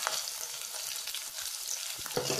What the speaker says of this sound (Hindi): अब हम इसमें मिला देंगे शिमला मिर्च बारीक कटी थी